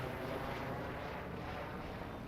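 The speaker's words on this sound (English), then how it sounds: "Helicopters on the search for our mystery howling creature again, by the looks of things." A helicopter in Farming Simulator 22 drones overhead as a faint, distant, steady rotor rumble that holds without a break.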